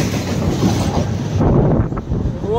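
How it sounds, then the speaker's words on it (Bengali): A train rushing past at very close range, a loud roaring rumble with clattering wheels that cuts off abruptly near the end as the last carriage clears. "পুরো হাফ ইঞ্চি দূর দিয়ে যাচ্ছে ট্রেনটা"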